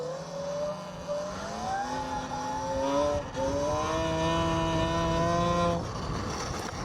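A Talaria electric dirt bike pulls a wheelie on the beach, its motor whine climbing steadily in pitch, dipping briefly, then rising again loud and close before cutting off.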